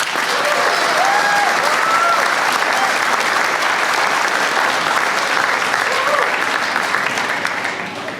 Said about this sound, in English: can we please give everyone a round of applause?